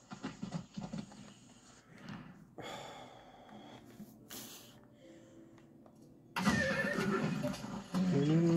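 A horse in the video game Far Cry 6 gives a whinny and snorts, mixed with game sounds and ambient effects, with louder bursts near the end.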